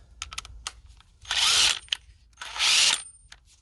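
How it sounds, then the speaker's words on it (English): A Hart 20V 3/8-inch cordless impact wrench in a torque test, firing two loud sustained hammering bursts about a second each, separated by quieter clicks and handling noise. "With the Hart 3/8 impact wrench."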